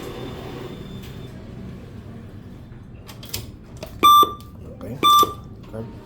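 Two loud electronic beeps from an ATM in Hanoi as it dispenses cash, each lasting about a quarter second, about a second apart, near and clear over low room noise, with a brief spoken word just before.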